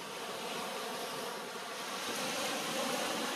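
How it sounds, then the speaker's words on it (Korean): Ocean waves washing onto a beach at Sokcho, a soft continuous surf hiss that swells slightly toward the end, faint and steady with no voices. "파도 소리 하며"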